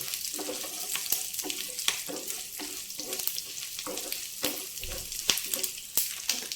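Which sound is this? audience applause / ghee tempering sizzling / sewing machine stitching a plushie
ghee tempering sizzling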